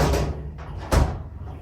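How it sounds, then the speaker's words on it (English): A metal locker cabinet door snapping shut with a sharp, loud latch click, preceded by a softer earlier closing thud, close by in a quiet room. "This just closes here, and it's this door that kind of has a snap."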